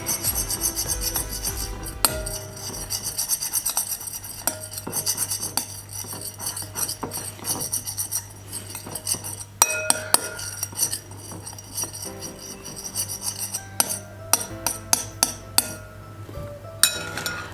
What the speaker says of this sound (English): Because castor oil is a very thick oil, I'm going to stir this up for it to mix properly.